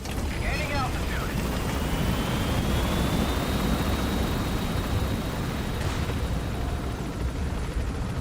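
A helicopter flies in Metal Gear Solid V: The Phantom Pain, a loud, steady, close rotor-and-engine drone filling the whole stretch, with a thin rising whine and brief chirpy sounds near the start.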